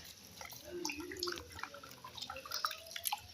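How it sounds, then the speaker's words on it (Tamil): Water drips and splashes faintly as rice is washed, with soft irregular trickles and small clinks close by. "ஒரு மூணு முறை நல்லா கழுவிடணுங்க கழுவிட்டு அப்புறம் அப்படியே ஊற விட்டுருங்க"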